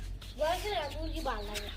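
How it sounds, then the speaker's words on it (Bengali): A chicken clucks close by in short, wavering calls, with a faint low hum underneath. "গলা সোলা মুরগি আনছেন দি তুই বালা গলা সোলা মুরগি"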